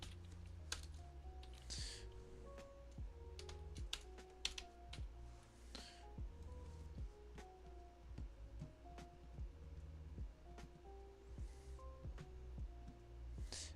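Fingers type on a computer keyboard in quick irregular bursts of soft, close clicks, with short pauses between runs of keystrokes in a quiet room.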